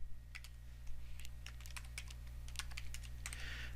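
Steady typing on a computer keyboard, quick irregular key clicks over a low constant hum, close and fairly quiet, with no talking.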